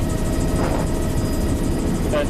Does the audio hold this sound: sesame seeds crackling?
no